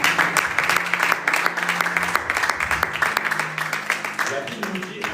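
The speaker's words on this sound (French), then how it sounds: "Acclamons pour la gloire de l'Éternel." A church congregation applauds and cheers together in worship, steady dense clapping with raised voices that carries on throughout and begins to thin toward the end.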